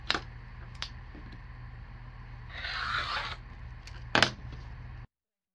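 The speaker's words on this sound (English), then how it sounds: "So here's my ripstop fabric. I'm just going to lay it out and get it cut." Ripstop fabric for a DIY tent bag is being cut. A soft rasping slice is heard, with faint clicks and handling noises before and after it. The sound is close and quiet, and no one speaks.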